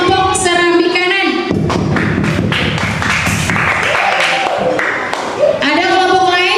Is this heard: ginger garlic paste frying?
no